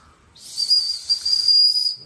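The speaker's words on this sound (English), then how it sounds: "And you got a rape whistle." An emergency whistle built into a multi-tool gives a single piercing, sustained shrill blast lasting over a second, loud and close.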